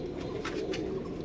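Pigeons kept as a pair coo softly nearby, a few brief throaty murmurs over a faint background hum within a moment.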